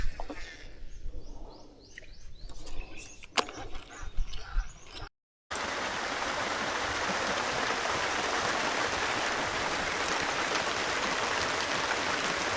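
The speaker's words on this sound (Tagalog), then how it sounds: "Umulan pa nga ni." Steady, dense rainfall hisses continuously after a brief quieter stretch of outdoor ambience by a mangrove shoreline in the Philippines, with the downpour filling the rest of the recording.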